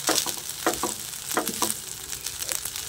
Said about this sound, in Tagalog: Tapos ginisa ko sa bawang tsaka yung tawag nito hotdog.